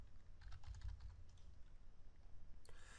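Quiet clicking of a computer keyboard, a short cluster of keystrokes followed by a few more taps, faint against a low background hum.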